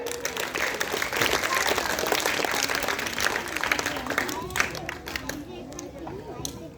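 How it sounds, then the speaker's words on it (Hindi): A school audience applauds steadily to welcome a student debater to the stage at an Independence Day debate, with broad, sustained clapping mixed with young voices chattering throughout. "कृपया तालियों से स्वागत करें।"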